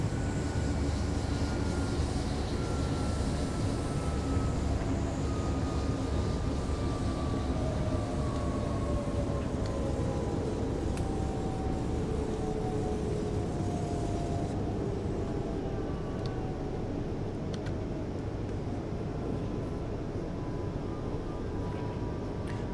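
A Bombardier Talent S-Bahn train runs between Lustenau and Feldkirch in Train Sim World 4, giving a steady, loud rolling rumble with slowly gliding motor whine tones throughout.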